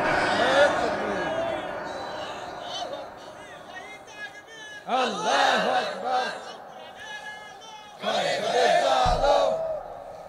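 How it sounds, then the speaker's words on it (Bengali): A large crowd at an outdoor religious gathering roars slogans in unison in two loud surges, with a preacher's amplified voice speaking between and over the chants. "কে কে রাজি আছেন হাত তুলে স্লোগান দিয়ে শুনে দেন"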